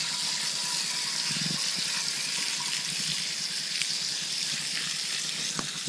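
Steady broadband rush of water spraying from a nozzle to rinse cleaner off a K&N air filter, continuous and fairly close, with a few faint clicks and knocks underneath.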